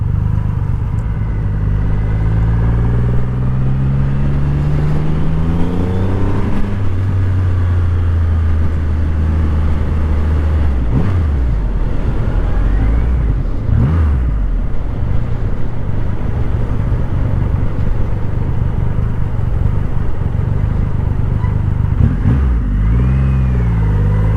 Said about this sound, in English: Definitely a different sounding exhaust.